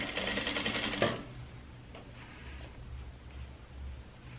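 A sewing machine stitches bias binding around the neckline of a trapeze dress, running as a close, steady whir for about a second before cutting off and leaving a quiet room hum.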